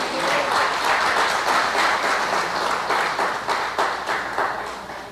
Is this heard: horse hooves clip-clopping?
no